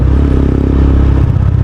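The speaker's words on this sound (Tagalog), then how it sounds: "Ingay ng preno ko sa likod." Steady loud mechanical grinding and scraping from a motorcycle's rear brake, continuous with a low engine hum beneath.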